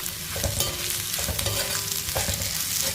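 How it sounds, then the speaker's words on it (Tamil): Ingredients for a pirandai weight loss powder, with asafoetida and pink salt, are stirred and lightly sautéed in a pan: a steady sizzle with scraping stirs, close up and with no voices. "இது லைட்டாக ஒரு வதக்கிடுவோம்."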